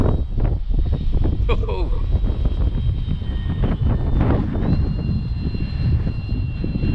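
An Avios Grand Tundra Plus, a 1700 mm EPO foam RC sports model plane, drones steadily through its electric motor while gusty wind buffets the microphone, with voices talking over the top.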